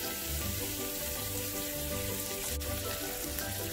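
Curry leaves and green chillies sizzle as they drop into a little hot oil in a pan for a Maharashtrian corn and vegetable bhaji, a loud, steady crackling fry heard up close.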